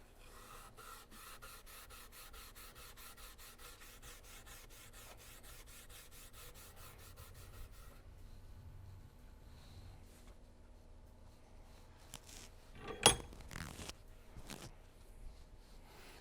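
Scouring the flood-damaged finish of a K98 rifle with alcohol and a Scotch-Brite pad produces a steady, close scratchy rubbing that runs continuously, with a few louder scrapes and knocks toward the end.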